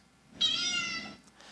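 A single cat meow, digitally pitched up so it sounds higher and thinner than normal, rings out clearly for under a second with no other sounds around it.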